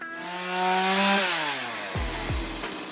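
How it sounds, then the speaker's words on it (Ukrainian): A Stihl chainsaw engine, one of the MS180, MS210, MS250 or MS260 models, revs up loud and close as the throttle is squeezed. The pitch climbs and then drops into a steady lower run near the end, with no voices. "Вижимаємо ручку газу, і пила сама переходить в свій робочий режим."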